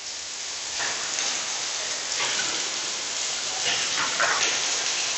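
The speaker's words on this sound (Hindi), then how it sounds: "बारिश स्टार्ट हो गई भाई" Rain starting to fall, a dense, steady hiss of drops drumming on a surface that swells slightly in places, loud and continuous with no voices.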